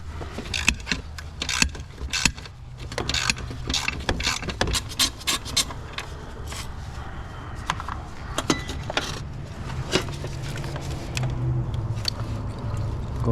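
A 10 mm ground bolt loosened on a bracket of a Nissan Versa Note or Sentra with a CVT transmission: rapid ratchet clicks and metallic tool clinks, close and fairly loud, in irregular bursts over a low background hum.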